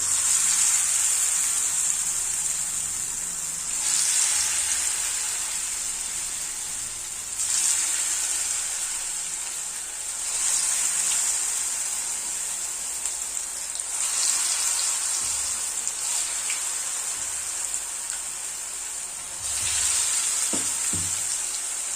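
Chicken kababs deep frying in hot oil in a kadai give a steady, close, loud sizzle like heavy rain, swelling and easing every few seconds with no voices over it.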